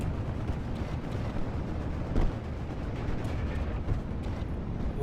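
Dense, continuous anti-aircraft fire aimed at a plane in the World War II strategy game Steel Division 44, a steady roar of rattling bursts and rumble with one louder crack near the middle.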